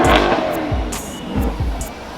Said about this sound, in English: that's C8 over there revving up.